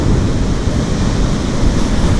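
Rough, choppy sea at Blanes on the Costa Brava, waves crashing on the shore in a dense continuous roar, loud and close, mixed with gusty wind buffeting the microphone and no talk.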